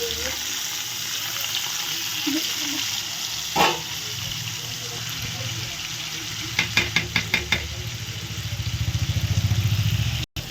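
Boiled cauliflower frying in oil in a pan, a continuous loud sizzle with a quick series of clattering taps near the end, close up.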